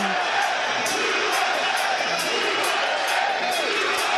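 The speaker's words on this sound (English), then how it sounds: "Look at this crowd. They're chanting." Arena crowd at the 2022 Mosconi Cup pool match cheering and chanting in rhythmic pulses, loud and dense with whoops rising over a continuous roar.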